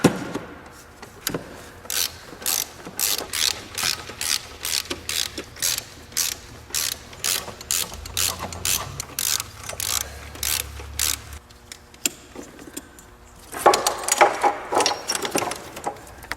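Rapid ratchet clicking in repeated bursts as fasteners on the intake manifold of a 1997 Nissan 2.4L are loosened, close and alone, with a louder burst near the end.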